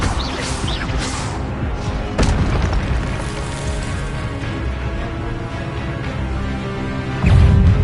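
Expelliarmus and other spells cast in Hogwarts Legacy, a series of booming magical blasts and whooshing bursts over continuous game ambience, with a heavier impact near the end.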